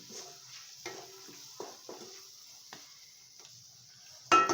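A spoon scrapes and taps against a frying pan while spices for khichdi are stirred, giving a handful of soft, scattered clinks over a faint sizzle, then a louder clatter right at the end.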